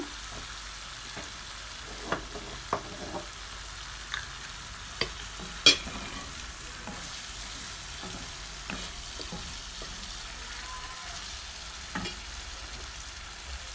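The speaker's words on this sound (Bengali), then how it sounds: "এখন আমি দিলাম মাছ, আর মাছ মশলা মাঝে দিয়া এটা একটু নাইরা সাইরা দিব" Small fish go into sizzling masala in a pan for a Sylheti curry with green mangoes, a soft steady frying hiss broken by scattered scrapes and clicks of stirring, a few of them sharper and louder.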